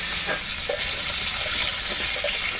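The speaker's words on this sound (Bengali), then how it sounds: "সুন্দর করে আমি লালচে করে ভেজে নেবো তরকারিগুলো আগে" Kakrol and potato pieces with turmeric and salt fry in a pan, giving a steady close sizzle and crackle with a few soft stirring scrapes, and no voices.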